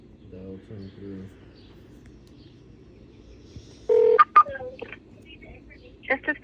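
Telephone keypad dialing tones on a call line sound as a quick cluster of sharp, loud beeps, preceded and followed by fainter tones over a quiet line.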